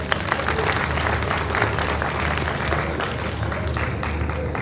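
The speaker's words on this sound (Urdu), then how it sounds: "اپنے لیے ایک دفعہ پھر تالیاں بجا دیں" Seminar hall audience clapping at a long live session, a sustained, dense wash of many hands with a low hum underneath, holding steady throughout.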